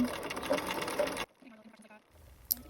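A sewing machine runs steadily at long stitch length through fabric, a dense whirring hum for about a second before cutting off, then faint mechanical ticks and a small click in the quiet that follows.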